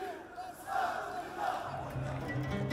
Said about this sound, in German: Das ist Jubelprotest.